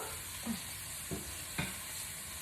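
Chicken pieces browning in a pan for chicken scampi, a faint steady sizzle with three soft knocks or scrapes spaced about half a second apart.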